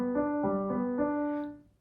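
A dominant seventh chord played without its seventh, sounded as four quick successive attacks of sustained tones that ring and then fade out, close and clear with nobody talking.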